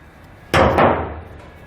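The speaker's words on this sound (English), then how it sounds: "We're just going to crimp these on." Spade terminals are crimped onto trailer wiring for a Roadmaster Smart Diode 7-wire to 6-wire kit, producing one sudden sharp, close crunching clack that quickly fades, otherwise quiet.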